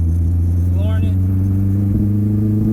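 Mazdaspeed 3 engine held at full throttle in third gear with a fueling problem, a loud steady low drone that does not rise in pitch, heard from inside the car and struggling to gain speed.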